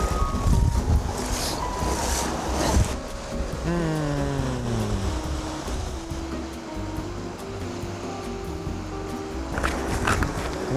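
Steady wind blowing across an open lake, a continuous broadband rush with gusty swells and low rumble, close to the microphone, with faint tonal sounds drifting through in the middle.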